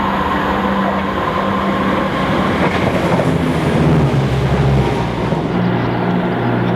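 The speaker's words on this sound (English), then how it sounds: "so there's a train about to go through." A train runs past a level crossing at Barry Links in a loud, dense rumble with rolling wheel noise and steady low tones that swell and then ease slightly toward the end.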